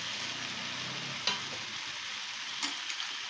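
A fish head being stirred in a frying pan, with a steady soft sizzle of hot oil and two brief scraping knocks of the utensil against the pan.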